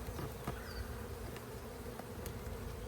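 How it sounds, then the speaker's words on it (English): A dense, continuous buzz of many honeybees swarming close by around a hive during a hive split, steady and droning with occasional louder passes. "still a lot of bees there"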